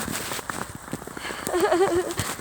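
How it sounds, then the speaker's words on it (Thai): Boots tread on snow in wintry Poland, a steady run of close, soft crunching footsteps at walking pace, fairly quiet, with a brief tonal chirp near the end. "ได้ยินเสียงเท้า"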